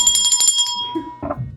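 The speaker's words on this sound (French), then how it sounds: "On sort la cloche encore." A bell rings to close a round of a party game, a bright, close ring with lingering overtones that fades as people begin talking.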